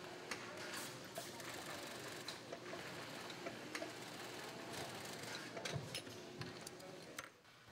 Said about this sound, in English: Workers secure the pack frame directly to the BCD body through the back pad using a special heavy-duty sewing machine